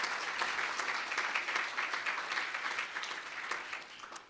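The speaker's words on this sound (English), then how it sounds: "just give yourselves a round of applause for being respectful to each other." Citizens' assembly members applauding one another, a steady wash of many hands clapping at moderate distance, sustained evenly for a few seconds before easing slightly.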